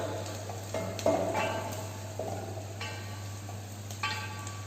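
Garlic sautéed in a pan for hariyali green gravy in a training kitchen: a soft steady sizzle punctuated by several sharp spatula clinks and scrapes against the pan, close and without talk.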